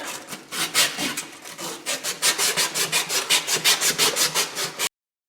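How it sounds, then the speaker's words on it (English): Fine 320 grit sandpaper rubs back and forth over the end of a copper pipe, a close, loud rasping scrub that quickens into a fast, even rhythm of short strokes before stopping abruptly. "This is 320 grit, and just clean off the ends of the pipe."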